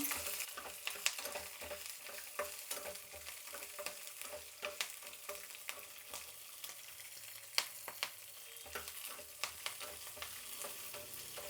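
Green chillies and ginger fry in a pan, giving a soft, steady sizzle with light stirring clicks and scrapes, faint and close throughout.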